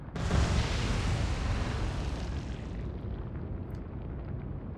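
Battleship Warspite firing its main guns in the Atlantic Fleet naval video game, one heavy booming salvo with a sharp onset and a long rumbling roar that slowly fades, loud and alone.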